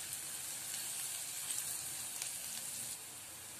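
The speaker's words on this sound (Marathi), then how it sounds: "हे आता मीडियम फ्लेमवरती 2 ते 3 मिनिट परतून घ्यायचं आहे" Chopped green chillies sauté in oil on medium flame for kande pohe, a faint, even hiss of sizzling with a few light crackles, easing slightly near the end.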